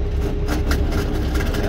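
Tractor trailer engine idling at close range, a steady low diesel rumble with a faint rhythmic throb, loud and continuous for under two seconds.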